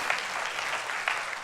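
Church congregation applauding during a sermon, a steady dense clapping crowd throughout with a couple of sharper bursts, no voices over it.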